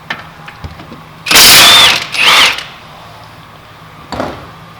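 Impact or power tool on the 21mm front brake bolts of a 2018 Volkswagen Atlas, two loud buzzing bursts close together, then a brief shorter burst, over a quiet garage background with light clicks.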